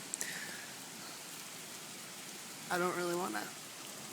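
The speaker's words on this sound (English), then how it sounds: "so it's raining like crazy" Heavy rain pours steadily as a continuous, even hiss beneath a brief spoken phrase from a nearby voice, with a faint tap early on.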